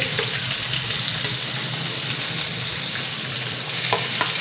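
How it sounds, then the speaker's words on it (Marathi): Onion and chili pepper fry in oil in a pan, making a loud, steady, dense sizzle that runs continuously, with a few faint utensil clicks. "आता हा कांदा मी ह्याच्यामध्ये घालणार आहे।"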